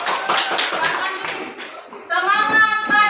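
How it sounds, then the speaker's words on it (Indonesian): Classroom applause for a student: a burst of many hands clapping quickly and irregularly, fading briefly, then cheerful voices and chatter come in at the end. "beri aplaus untuk Bening"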